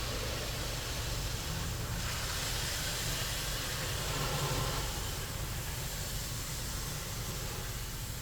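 Water spray from a 2006 Ryko Softgloss XS automatic car wash rinsing a car at an Exxon station, a steady loud hiss of jets running continuously without break.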